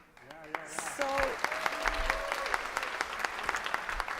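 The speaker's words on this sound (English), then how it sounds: "thank you so much for clapping" Audience clapping at a live pitch event, rising into a steady patter of many hands under a speaking voice and crowd noise.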